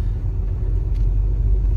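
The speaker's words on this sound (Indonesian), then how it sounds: "mobil udah banyak sih yang pada datang ke sini." Cars idle and roll into a busy waterpark parking lot in the morning, a steady close low engine rumble with no voices.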